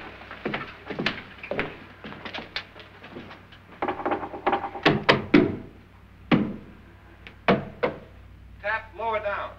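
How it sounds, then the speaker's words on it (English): Knocks on a wall in the 1959 haunted-house film, a scattered series of dull thumps and taps, some sharp and close, heard between and under people talking. "Now, I'm going to knock on the other wall."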